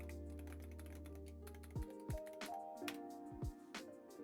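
A password is typed on a computer keyboard at a Linux server prompt, a quiet run of close, quick key taps in an uneven rhythm, with no talking.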